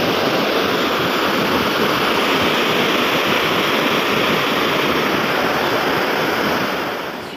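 River water rushes steadily below a bridge, a loud, continuous broadband roar with no voices, fading slightly at the end.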